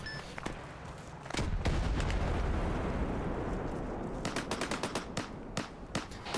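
Heavy machine gun fire in the Arma 3 military game rattles in a long, dense sustained burst, then breaks into separate sharp reports toward the end. The fire is loud and there is no talk.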